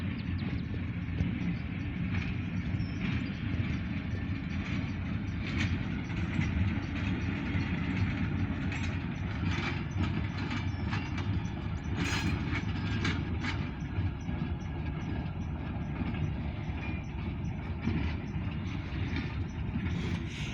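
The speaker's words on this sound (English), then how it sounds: "We have an OC&T Alco 85 light power train." An OC&T Alco light power train, locomotives running without cars, heading to East Titusville, Pennsylvania, rolls past with a loud, steady engine rumble and rail clatter lasting about twenty seconds, with no one talking.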